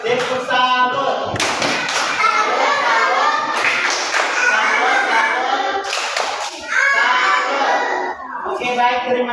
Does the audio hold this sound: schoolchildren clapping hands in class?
yes